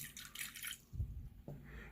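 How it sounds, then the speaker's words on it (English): Tap water is poured onto a dry Rose of Jericho resurrection plant, giving a couple of short, soft splashing trickles heard up close with no talking. "I'm just going to put the tap water in."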